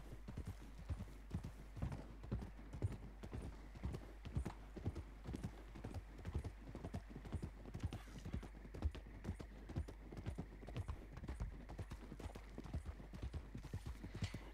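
Horse hooves clip-clopping in a video game, a steady even trot of quick hoof beats running throughout, moderately close over a low constant background hum.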